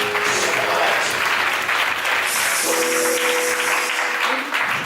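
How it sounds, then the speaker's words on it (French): A church congregation claps for Jesus in sustained, loud, dense applause filling a large room, with faint voices and a sung tone partly audible beneath. "Clap for Jesus."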